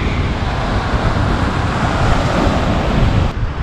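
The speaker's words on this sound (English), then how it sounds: "I have never seen waves like this in Greece before." Sea waves break heavily on the shore of Crete in a loud, continuous roar of surf mixed with wind noise on the microphone, with no voices.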